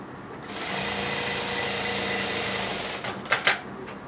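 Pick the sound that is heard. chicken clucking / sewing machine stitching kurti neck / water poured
sewing machine stitching kurti neck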